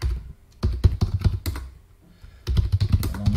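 Fingers type on a computer keyboard set up for an emulated BBC Basic machine, close and crisp, in two bursts of rapid clacking keystrokes with a brief pause between them.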